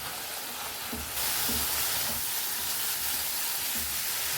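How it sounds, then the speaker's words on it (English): Marinated paneer for taco filling sizzles and fries in a pan, a dense, steady hiss that grows a little louder as it is tossed, with no talking. "Toss it around and cook till the liquid dries up."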